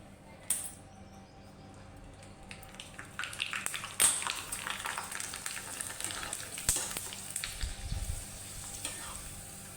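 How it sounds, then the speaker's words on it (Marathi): Rice-flour kurdya drop into hot oil on a gas stove and fry with a lively crackling sizzle, bursts of popping, a few sharp clicks and faint low thumps near the end. "आता आपण इथं गॅसवर तेल ठेवलेलं आहे आणि आता ह्याच्यातली ही कुरडी आपण याच्यामध्ये टाकूया"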